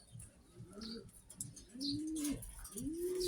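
A racing pigeon coos close by in soft, low repeated calls, a few rising-and-falling coos over faint background sounds.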